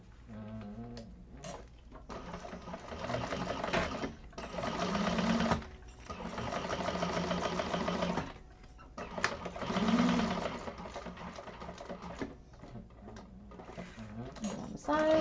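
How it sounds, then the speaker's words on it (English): A sewing machine basting three sides and top stitching across a fabric edge runs in several bursts of rapid whirring, separated by brief pauses, close and fairly quiet, with someone talking between and over the runs. "we're going to baste those 3 sides and top stitch across that top"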